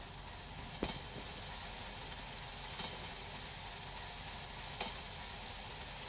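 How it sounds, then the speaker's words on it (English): A freight train coasting down a grade in the game Train Sim Pro USA gives a steady, even rumble of rolling wheels, with a few sharp clicks spaced a couple of seconds apart. "I'm going to let my train coast along because it's going to go on a downslope grade"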